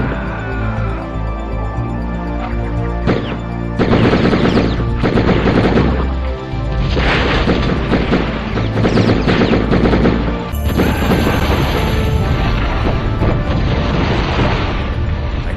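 Near-constant gunfire fills a Die Hard 2 shooting video game: dense automatic bursts and crashing impacts that run loud and unbroken, layered over game music, with no voices.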